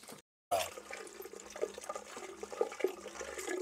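Water gushes steadily out of a radiator during a central heating system flush on a combi boiler installation, sloshing and splashing with a brief silent gap near the start.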